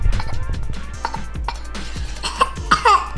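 A young girl's fake cough, several short bursty coughs mixed with giggles and small movement noises, close and fairly loud, played for fun.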